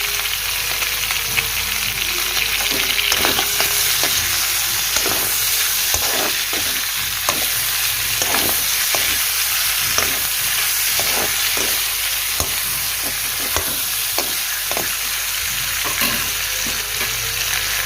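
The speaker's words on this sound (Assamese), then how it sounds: "এতিয়া মই ইয়াতে কাটি থোৱা পিঁয়াজকেইডোখৰ দি দিছোঁ।" Chopped onions frying in a pan for a pork curry with bamboo shoot, a steady close sizzle broken by repeated scraping stirs at an even rhythm, with no talking.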